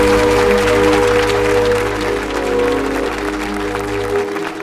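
An audience claps after Mili's speech, a continuous, full burst of applause sustained throughout, with a steady low hum running underneath and the clapping thinning slightly near the end.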